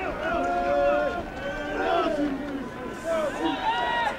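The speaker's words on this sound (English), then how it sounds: "Home crowd giving their chant, hoping to be that extra push behind the NOLA Gold scrum" A home crowd at a NOLA Gold rugby match chants together, sustained voices rising and falling across the stadium in a loud, steady wave, with a commentator talking over it.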